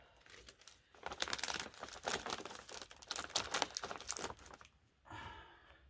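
Tuck tape pulled and pressed around cut-outs in poly sheeting during concrete slab prep, a long stretch of crackly peeling and crinkling bursts, fairly close, followed by a brief softer rustle.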